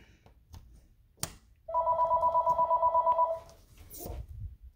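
A phone rings with an incoming call, a fast warbling electronic trill lasting under two seconds, fairly loud and close against quiet outdoor background noise, with no talking over it.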